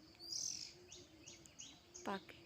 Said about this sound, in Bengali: দেখেন একটা দোয়েল পাখি